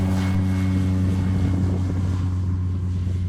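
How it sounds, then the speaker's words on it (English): Steady, loud propeller drone from a Mokulele airplane departing the runway, a strong low hum with harmonics and wind rush, fading slightly as it pulls away. "I stood at the side of the runway for a bit and watched the Mokulele flight depart"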